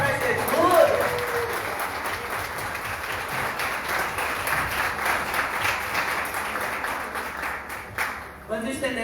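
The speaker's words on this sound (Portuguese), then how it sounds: "uma salva de palmas para Jesus" A church congregation at a prophetic conference claps in sustained, dense applause that fills the room steadily, tapering briefly near the end.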